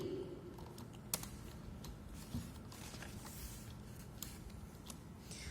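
Keys clack faintly on a computer keyboard as an SQL query is typed, a soft, irregular patter of keystrokes over a low background hum.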